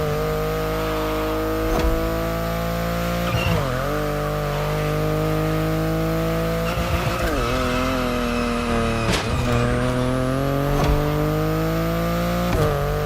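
BMW i8 driving in the video game The Crew Motorfest, a steady loud engine drone with shifting harmonic tones as revs rise and fall, punctuated by a few sharp gear-change breaks, no voices.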